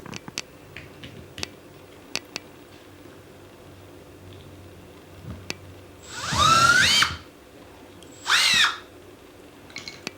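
Two short bursts of a high whining drill boring metal rivets held in pliers, close by, separated by a brief pause among scattered clicks and handling noises.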